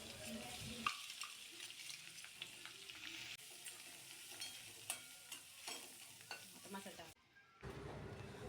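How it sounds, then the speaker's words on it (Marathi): Ground masala paste fries in oil with mustard seeds, cumin and turmeric, making a continuous close sizzle broken by scattered spatula scrapes. It drops briefly to near silence before the sizzling returns. "आता तेलात मोहरी, जिरी, हळद व वाटलेले वाटण परतून घेऊयात"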